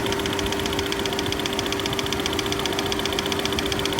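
A car engine runs with a steady, loud knocking and a rapid metallic ticking, shaking more than normal and heard close on the side with the accessory belt, continuous with no talk.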